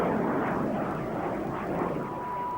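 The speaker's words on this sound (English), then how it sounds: "it powered de Havilland's first jet, the Vampire, which first flew in 1943" A de Havilland Vampire jet aircraft flies past in archival footage, giving a steady, broad roar that holds at an even level throughout with no voices.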